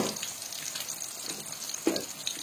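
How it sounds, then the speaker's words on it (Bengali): Eggs frying in a pan on a stove outdoors in bright sun, a soft, steady sizzle with a few small pops, quiet and close, no talking. "এখন এদিকে একটু ফ্রাই করে নিচ্ছি"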